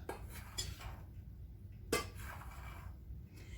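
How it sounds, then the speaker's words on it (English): A spoon scraping and clinking in a bowl while flour and sugar are stirred together for homemade wheat bread, a few soft strokes and one sharper tap, quiet and close with no talk. "Let me stir this up, get all of this combined good"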